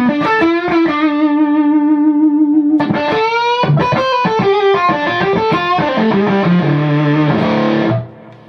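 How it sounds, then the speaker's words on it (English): An electric guitar through a fuzz pedal plays loud, saturated notes and chords, with a held note, then a burst of rapid picked notes and a sustained ringing passage before cutting off. "And then just adding that fuzz adds something totally different."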